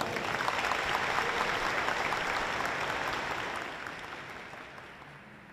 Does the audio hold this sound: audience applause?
yes